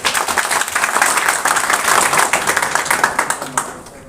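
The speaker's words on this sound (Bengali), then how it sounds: "করতালি হবে।" An audience at a hotel event in Cox's Bazar, the Sea Crown hotel, breaks into loud, dense applause close by, tapering off near the end, with a few voices mixed in.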